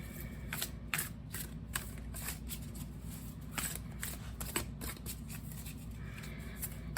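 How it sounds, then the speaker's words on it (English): A deck of tarot cards being shuffled during a pick-a-card reading, with soft riffling and quick papery slaps in irregular bursts, close and quiet against a low steady background hum. "we'll go ahead and shuffle using this deck"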